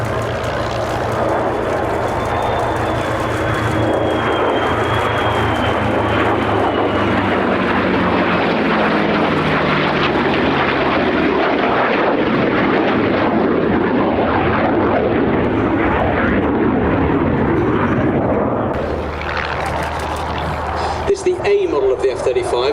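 A USAF F-35 fighter jet of the 495th Fighter Squadron passes over Sywell Aerodrome at an airshow, its engine a loud broad roar that swells and holds, with a commentator talking over it.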